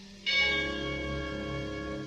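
Musical chimes of bells ring out suddenly after a brief quiet, a bright struck tone followed by a long, sustained resonant hum that fades slowly, loud and close with no voices.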